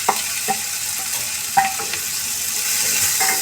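Potatoes frying in a pan with bitter gourd peels for a Punjabi potato and pea dish, a steady close sizzle broken by a few sharp stirring scrapes and clinks of the spoon, no talk.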